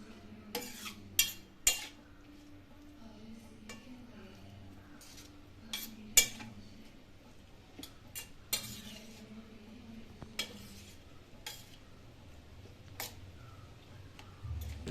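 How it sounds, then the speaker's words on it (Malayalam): A spoon stirs salted lemon pickle in a bowl, giving scattered metallic clinks and scrapes at irregular intervals, close and fairly quiet over a low background hum. "ഇനി നമുക്കൊരു സ്പൂൺ എടുത്ത് ഇതിനെ നല്ലതുപോലെ യോജിപ്പിച്ച് ഇളക്കി വെച്ച് കൊടുക്കാം"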